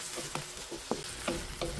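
Pork binagoongan with shrimp paste, sugar, pepper and vinegar is stirred in a sizzling pan. Faint frying crackles run under several short scrapes of the spoon, close, and no one speaks.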